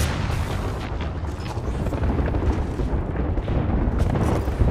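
Dense, continuous gunfire and booming blasts from a new gun in the video game Apex Legends, loud and sustained with rapid overlapping shots throughout.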